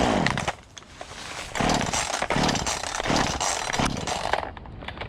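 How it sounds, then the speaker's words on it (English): A Walmart-bought chainsaw runs while clearing a backyard homestead area, loud and close, its engine rising and falling in repeated revving bursts before cutting off near the end. "I have two of these chainsaws that I bought from Walmart."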